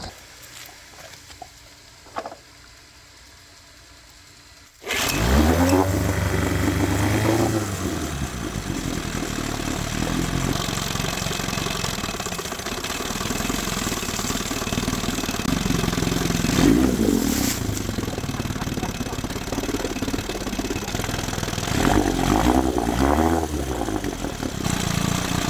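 A 1972 Johnson 9.5 horsepower outboard motor starts after a quiet stretch and keeps running loud and close, a steady buzzing drone with small throttle swells, no talking.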